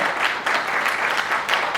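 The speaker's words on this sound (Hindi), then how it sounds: "बिल्कुल तालियां बजा सकते हैं" Audience applause fills the room, a steady dense wash of many hands clapping close and loud, with a brief dip in the middle and no talk over it.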